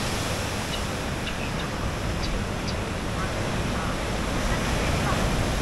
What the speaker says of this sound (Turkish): Deniz şöyle arkadaşlar.